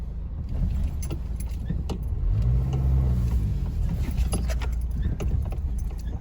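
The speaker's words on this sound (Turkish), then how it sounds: "Araba mı park edeceksin?" A car maneuvering to park on a street near Kasımpaşa market, its engine a steady low rumble with some clinking noises on top, fairly close, with no talk.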